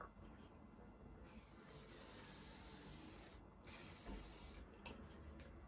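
Hissing hairspray bursts onto a wig on and off in several short and longer pulses, close and fairly quiet, with no talking.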